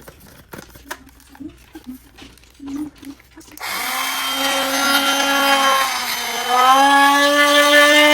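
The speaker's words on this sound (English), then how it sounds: "cool it off before I grind it into the powder" Electric grinder running steadily and loudly on roasted sesame seeds, reducing them to powder in a home kitchen, with a strong whirring motor tone; before it starts there are soft handling clicks and rustles.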